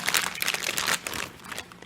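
Plastic wrapping is torn open from a raw whole chicken in a kitchen, producing a close, brief burst of crinkling, crackling plastic that fades over about two seconds.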